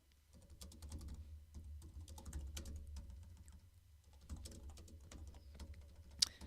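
A computer keyboard being typed on during a live WordPress Q&A session, with bursts of quick key clicks in uneven runs and pauses over a low steady hum, fairly close and moderately quiet.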